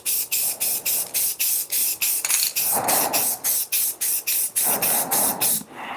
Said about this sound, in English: Let's spray. Let us spray and pray.